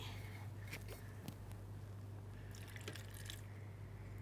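Water splashes and trickles into a blender with frozen berries in short bursts, with drips and clinks over a steady low hum.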